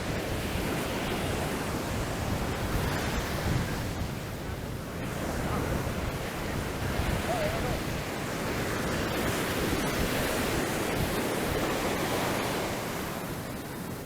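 Choppy ocean surf rolls in steadily on a Punta Cana beach in the Dominican Republic, a continuous broad wash of breaking waves close by, loud and unbroken, with wind buffeting the microphone.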